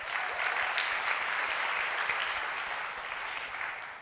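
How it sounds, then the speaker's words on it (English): A conference audience applauds at a product keynote, a dense steady wash of many hands clapping that carries on without a break and eases slightly toward the end. "I think you deserve a round of applause for that."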